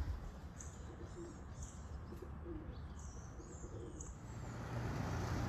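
White racing pigeons out on an evening training flight, with soft cooing and light chirps and wing flaps drifting over steady outdoor background noise.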